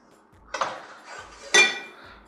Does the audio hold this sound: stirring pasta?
yes